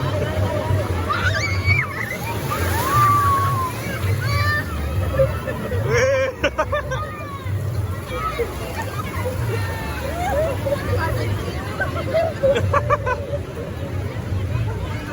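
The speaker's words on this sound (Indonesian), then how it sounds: "Gede ombaknya deh ya. Ombaknya gede, takut." Big surf rolls and sloshes onto a sandy beach at Lagundi, a continuous low wash of breaking waves heard beneath lively nearby talking and a background hubbub of voices.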